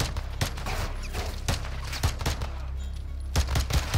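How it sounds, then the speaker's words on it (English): Gunfire from the video game Call of Duty Modern Warfare II, a campaign firefight with repeated sharp shots and bursts spread through the moment, some louder and closer than others, over a rumbling battle backdrop. "Somebody's shooting at me."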